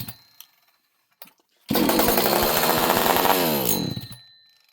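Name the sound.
chainsaw engine firing then shutting off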